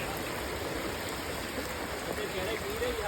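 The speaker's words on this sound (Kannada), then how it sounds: "ನೋಡಿ ನೀರು ಎಷ್ಟು ಫೋರ್ಸಲ್ಲಿ ಬರ್ತಾ ಇದೆ." Water rushes forcefully down a stream in a steady, broadband hiss and roar that carries without a break from start to finish, with no voices over it.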